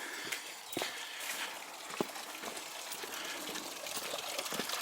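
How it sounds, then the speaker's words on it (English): A garden hose pours water into a backyard pond to top it up, a soft steady splashing and trickle at low level with a few small knocks, no voices. "So I think I can start the water running to top it up."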